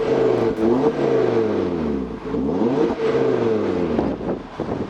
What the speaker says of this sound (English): It's time to hear how sweet the Audi RS3 is.